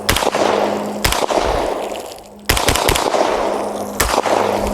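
Shots from an Extar EP9 Gen 2 pistol-caliber carbine ring out loud and close: a rapid burst of about five cracks, a pause, then several more, each with a sharp attack and echoing decay.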